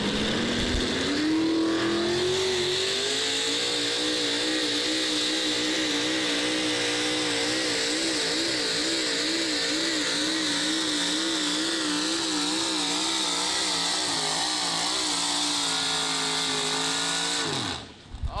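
A Ford Pro Stock four-wheel drive truck makes a tractor pull run at the Zellwood Super Pull, its engine revving up sharply and then screaming loud and sustained with wavering pitch for most of the pass before cutting off abruptly.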